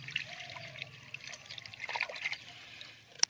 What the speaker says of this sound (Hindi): इन रूट्स को अच्छे तरीके से धो लेती हूँ ताकि इनमें जितनी भी मिट्टियाँ वगैरह लगी हुई हैं, जितनी भी धूल गंदगी हैं, वो धुल जाए।